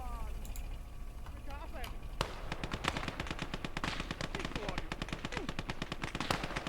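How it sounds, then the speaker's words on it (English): Machine-gun fire in the WWII strategy game Motherland, rapid rattling bursts that run almost continuously after a sharp opening crack and sit under a voice talking over the battle. "That little machine gun's really irritating me."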